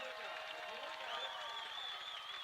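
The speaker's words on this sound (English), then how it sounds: "you can hear the crowd cheering as they like that" A crowd cheers at a high school football game between the Snowflake Lobos and the Show Low Cougars, heard as a faint, distant, steady wash of voices and applause.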